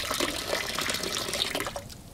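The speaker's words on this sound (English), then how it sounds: "I'm just gonna let this water out nice and slow like" Water pours slowly out of a gold pan during panning of clay-rich desert material, a soft continuous trickle and splash that tapers off toward the end.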